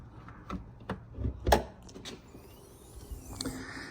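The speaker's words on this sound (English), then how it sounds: "Pop the hood." The hood of a 2023 Jeep Grand Cherokee Limited is opened, heard as a few quiet clunks and mechanical clicks, including a sharper latch knock midway, followed by faint metallic creaking as the hood rises.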